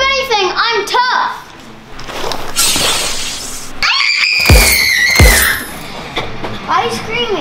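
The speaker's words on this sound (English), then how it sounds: "Why are you screaming?" A child screams outdoors in the woods during a toy battle game, shrill and loud, mixed with excited kids' chatter and a sharp crash-like burst, with several rising and falling wails.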